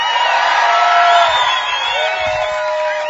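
Crowd noise at a Bassmaster Elite fishing tournament weigh-in at Cayuga Lake, New York: a steady roar of cheering and whoops, loud and continuous throughout with no pauses.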